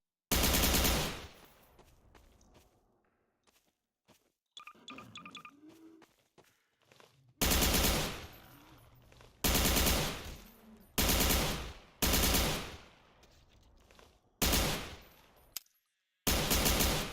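A custom TFA weapon fires in Garry's Mod, with loud automatic bursts coming in repeated separate volleys and short quiet gaps between them. Some faint clicks and handling sounds come before the shooting starts.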